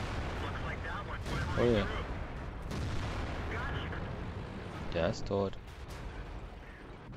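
Heavy tank cannon booms in World of Tanks fire a few times amid rumbling engine noise, with someone talking briefly in German over the action.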